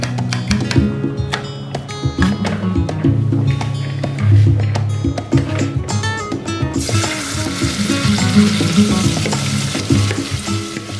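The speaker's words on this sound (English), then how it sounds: "So these onions should be cooked until translucent in about 80 grams of sunflower oil or vegetable ghee" Sliced onions fry in about 80 grams of sunflower oil with clattering stirs and taps of a utensil in the pan, then the sizzle swells into a loud, dense hiss for the last few seconds.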